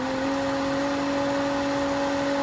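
A variable speed pool pump runs at about 2900 RPM with a steady, close mechanical hum and a constant tonal whine, unbroken for the whole stretch.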